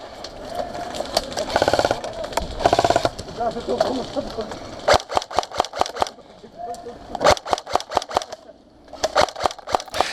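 A G&G GK74 airsoft rifle, an AK-74 variant with electric blowback, fires during an outdoor skirmish game in Exeter. It makes rapid sharp clacking bursts and single snapping shots close by, and people talk over the start.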